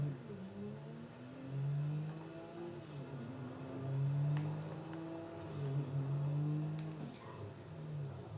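A Sultan RS sports car in the video game GTA V accelerates, its engine revving up in repeated rising surges as it shifts through gears, heard alone without talk.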